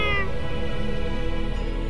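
A cat meows in the anime-style soulslike game Little Witch Nobeta, one clear, close meow at the start trailing into steady game background tones.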